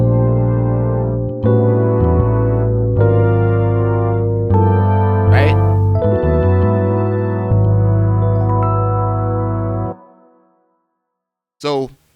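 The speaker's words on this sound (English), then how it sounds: "And then I added some electric keys." Beat with electric keys layered over bass and drums, playing sustained chords in a steady loop that cuts off near the end, followed by a brief burst of sound.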